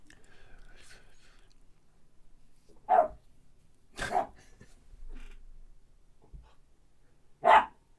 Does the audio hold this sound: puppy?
yes